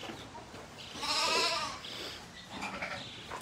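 Sheep bleat loudly during a shearing event, one long wavering baa dominating the middle with fainter bleats after it against a noisy barn background.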